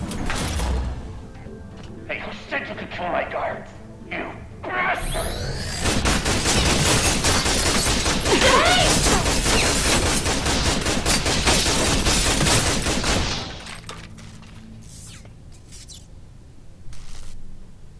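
Heavy, sustained gunfire bursts from the Tales from the Borderlands video game roar for about eight seconds, loud and dense. Quieter game sounds come before and after, with brief spoken voices.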